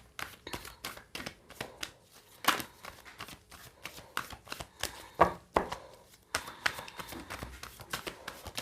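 Tarot cards being shuffled by hand, a quick uneven run of crisp riffling flicks and soft taps close to the listener, with no voices.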